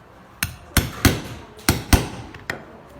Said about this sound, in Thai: ฉะนั้นเวลาที่เราตอกจากขวามาทางซ้ายเราจะไม่ถนัด